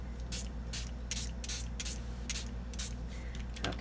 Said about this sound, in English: Okay, so I just sprayed this